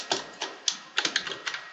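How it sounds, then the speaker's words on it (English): Computer keyboard keys tapped out in quick irregular bursts while entering a web address, a dozen or so crisp clicks with short pauses, close and clear with no talking. "We'll just type it in here so you can see it."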